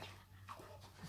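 Dog facing off with a neighbour's Rottweiler, panting and a brief whimper, faint and close, with low background hum.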